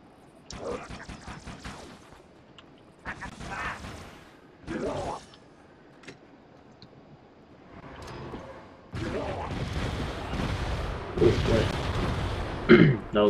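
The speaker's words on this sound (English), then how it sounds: "That was quite the explosion." Halo: Spartan Assault game audio with bursts of talk early on, then a loud, sustained explosive rumble with crackling debris building over the last few seconds.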